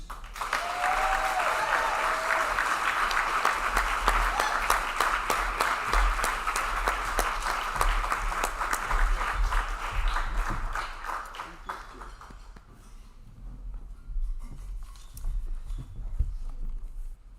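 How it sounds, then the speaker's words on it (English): A big round of applause greets Mr. Jonathan Young at the 2024 Disability Mentoring Day kickoff reception, sustained crowd clapping that carries strongly for about twelve seconds before thinning and fading, with brief speech mixed in. "I expect you to give a really, really big round of applause to Mr. Jonathan Young"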